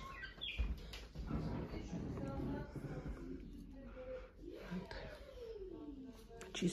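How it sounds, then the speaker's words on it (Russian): Pet parrots in a large apartment give scattered short chirps and calls, moderately near, mixed with room noise and people talking nearby. "Тут у них попугаи."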